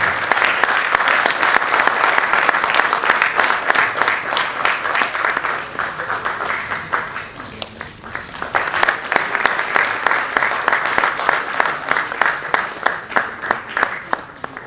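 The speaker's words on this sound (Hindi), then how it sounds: "जोरदार तालियां हो जाएं" A festival stage audience gives a loud, dense burst of applause that holds steady for the whole stretch, dipping slightly midway before swelling again, with no clear talk on top.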